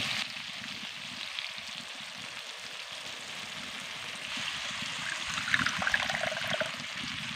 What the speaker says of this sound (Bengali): এর মধ্যে দিয়ে দিচ্ছি জল